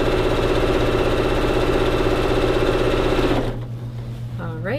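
Sewing machine stitching a skirt hem, running as a steady loud mechanical whir for about three and a half seconds before stopping, leaving quiet room tone with a brief faint sound at the end.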